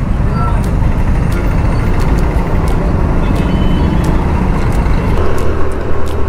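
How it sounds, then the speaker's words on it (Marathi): Dense, steady road traffic roars at a large, busy city junction, with cars, trucks and buses rumbling continuously close by and an occasional hiss of air brakes. "आणि ह्याही चौकात भरपूर ट्रॅफिक असतं, कारण मोठा चौक आहे."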